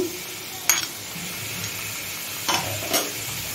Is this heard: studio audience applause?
no